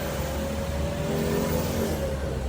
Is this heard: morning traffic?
yes